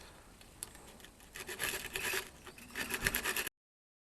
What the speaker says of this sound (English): all I'm going to do now is just sand the paint up to say there